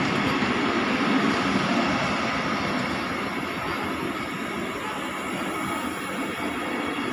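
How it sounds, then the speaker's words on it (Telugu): An orange Vande Bharat train, Secunderabad–Nagpur service, goes by with a steady, even roar of wheels and rushing air, moderately loud and without any talk. "ఆరెంజ్ వందే భారత్. వందే భారత్ జై నాగేంద్ర."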